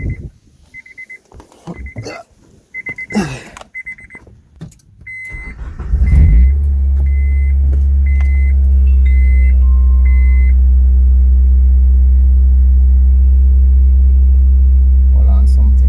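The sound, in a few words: car engine starting and running with DIY cold air intake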